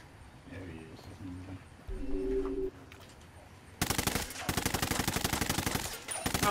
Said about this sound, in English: I'm shooting a damn cactus.